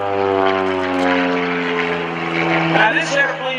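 An Extreme Decathalon aerobatic propeller plane with a redesigned aileron setup and 30 extra horsepower drones through a loop at an airshow, its engine tone loud and steady and slightly changing pitch, while a voice talks over it.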